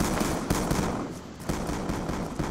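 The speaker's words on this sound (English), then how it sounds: "right now I'm playing Black Ops 2, just using pistols, that's it" Rapid pistol fire in a Black Ops 2 team deathmatch, a dense string of loud, close shots cracking in quick irregular bursts throughout.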